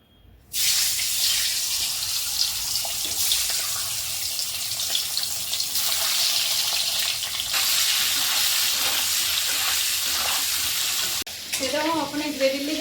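Turmeric-coated eggs hit hot oil and erupt into a loud, sustained sizzle and crackle that continues close up for several seconds. A voice speaks briefly at the end.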